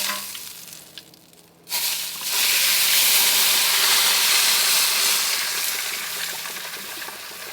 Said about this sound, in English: Water needs a bit of a top up.